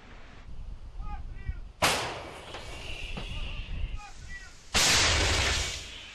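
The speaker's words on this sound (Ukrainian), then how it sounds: "Наша артилерія тут фактично не замовкає." Two heavy artillery blasts on the Bakhmut front, loud and near, each with a long rumbling decay, separated by several seconds of background noise and faint voices.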